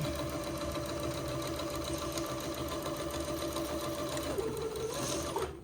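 A sewing machine stitches the second pass of a French seam on fabric for a funeral pall, giving a close, steady mechanical whir that runs unbroken and cuts off near the end.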